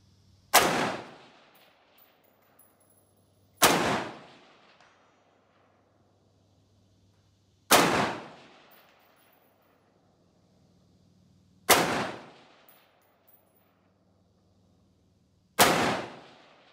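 Five sharp, loud gunshots from an AR-15 pistol fired at a 300-meter range, spaced roughly every four seconds, each with a short echoing decay and quiet gaps between.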